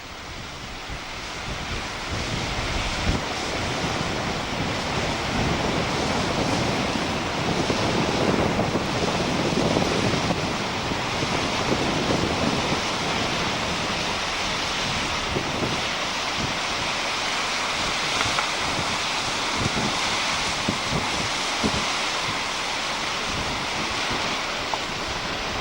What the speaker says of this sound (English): it's also a little bit more windy now